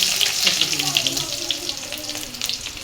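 Onions frying in a pan while cooking fish and bottle gourd with prawns: a steady hiss and crackle, fairly close, with faint clinks.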